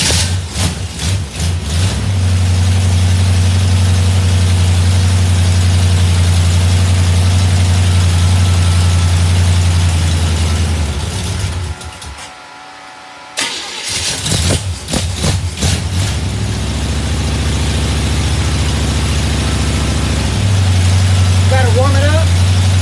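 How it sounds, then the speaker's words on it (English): A small block Chevy V8 fitted with an RV cam cranks over, catches and settles into a loud, steady idle, briefly dropping out midway before firing again and idling on. "we're going to get this engine started up."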